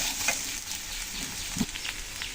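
Mixed vegetables and soybeans fry in a pan, a soft crackling hiss broken by a few light clicks and scrapes of stirring, fairly close and without speech.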